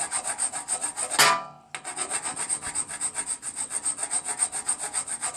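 Ignition contact points on a Murray Ultra opposed-twin garden tractor are lightly filed clean, a fast, even rasping rhythm of short close strokes that stops briefly after a scratchy burst, then resumes, with no talking.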